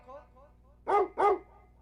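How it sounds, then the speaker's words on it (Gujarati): Two quick, sharp dog barks close by, one right after the other, over a low background hum. "આ કોકનું કૂતરું છૂટી ગયું"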